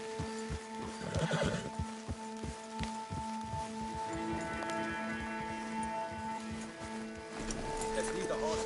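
Horses in the Red Dead Redemption II video game whinny and snort while their hooves clop in a steady walking rhythm, with tonal game music sustained beneath and voices talking over it.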